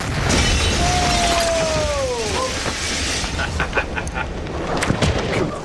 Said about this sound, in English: To validate the upcoming bunker test, they need this blast to be almost identical to the real one that failed to kill Hitler.